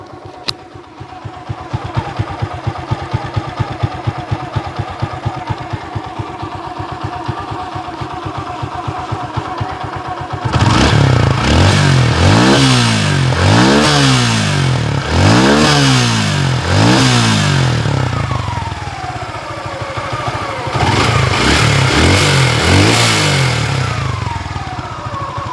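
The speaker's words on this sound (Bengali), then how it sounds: "এবার আপনাদেরকে গাড়ির ইঞ্জিনের সাউন্ডটা একটু শোনাই দিব" A Suzuki Gixxer Monotone motorcycle running close up, a steady low idle pulsing at first, then a string of sharp rising and falling throttle revs, with a pause before another burst of revving.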